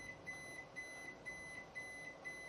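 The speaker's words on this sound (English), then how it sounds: "And it has started the alarm to alert the user." A Japanese gas fan heater's safety alarm sounds after its gas supply is cut off: a steady series of short, evenly spaced high beeps, about two per second, faint against low background hum.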